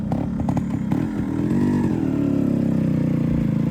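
A motorcycle revved up for a wheelie on a road, with close throttle blips and some mechanical clatter building into a sustained, rising engine roar.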